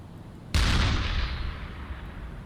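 A flak gun on a U-boat fires at a ship, one loud sharp blast that rings out and decays over about two seconds, heard alone and up close.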